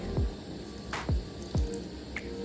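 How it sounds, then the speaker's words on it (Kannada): Water poured over rice for veg pulao in a pressure cooker: a few separate drips and splashes spaced about half a second apart, close and moderately quiet with no voices. "ಅಕ್ಕಿ ಎಷ್ಟು ಮುಳುಗ್ತದೆ ಅಷ್ಟು ನೀರು ಹಾಕಿದರೆ ಸಾಕು"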